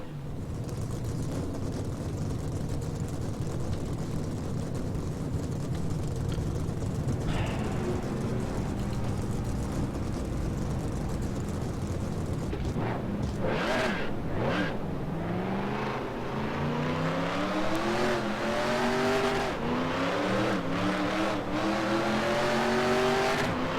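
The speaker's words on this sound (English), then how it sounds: "Drivers, start your engines." Race car engines fire up and rev in the NR2003 racing game at Talladega. A low idle drone builds into rising, overlapping engine whines toward the end, growing louder as more cars join.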